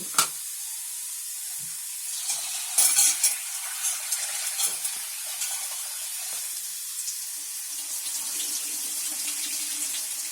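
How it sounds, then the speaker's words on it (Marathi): Quiet splashing and swishing of water as dried cowpeas are rinsed, with small clinks and sloshes over a steady faint hiss. "ही चवळी आहे ना सुकी चवळी ही जरा स्वच्छ आहे ना पाण्याने धुवायची"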